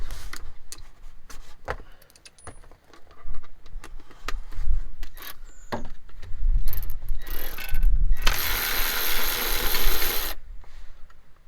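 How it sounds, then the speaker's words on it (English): Electric ratchet spinning out a 12mm bolt on a Lexus IS200 intake manifold bracket, in short whirring bursts with clicks and handling knocks, the longest run near the end, close and loud. "It's an electric ratchet thing."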